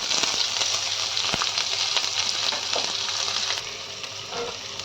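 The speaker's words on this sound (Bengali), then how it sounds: "পেঁয়াজটাকে ভালোভাবে ফ্রাই করব, লাল লাল হওয়া অবধি" Chopped onion and two green chillies frying in hot oil with whole cumin, a steady dense sizzle with occasional stirring scrapes, close and continuous without any voice.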